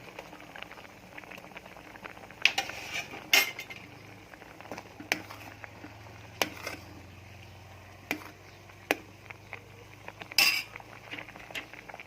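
Moo jao, an old-style Thai pork stew sweetened with fermented rice, simmers in a pot, giving a low steady bubbling bed broken by scattered clinks of utensils against the pot.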